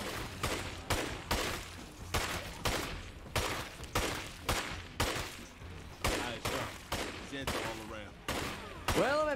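Sustained gunfire in the video game State of Decay 2 as a magazine is emptied: about a dozen sharp, evenly paced shots ring out loud and close, with brief voice chatter near the end.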